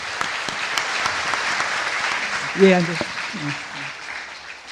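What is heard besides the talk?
audience applause for a student and his grandmother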